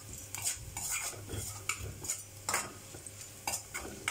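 Ingredients roast in ghee in a pan while a metal spoon stirs and scrapes in quick repeated clinks, with a soft sizzle underneath, close and fairly quiet.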